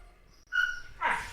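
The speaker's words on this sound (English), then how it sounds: "with your dogs fighting literally the whole podcast" Dogs scuffle indoors, a quiet whimpering whine followed by sharper yips and a louder yelping burst at the end, close to the microphone with no talking.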